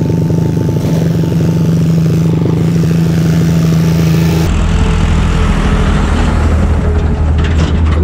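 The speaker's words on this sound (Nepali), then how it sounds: "ट्र्याक्टर आयो" A tractor rumbles along a rural village road, its low engine drone loud and close throughout, the tone shifting partway through as it passes by.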